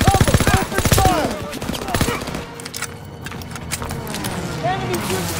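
Loud, close automatic gunfire in a Call of Duty WWII battle, dense rattling bursts up front that thin into scattered shots, with shouted voices over the combat throughout.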